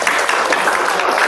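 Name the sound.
applause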